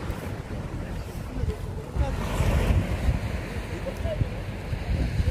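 Waves wash onto a Mediterranean beach in France at sunset, a steady rolling surf with wind noise across the microphone, continuous and fairly close.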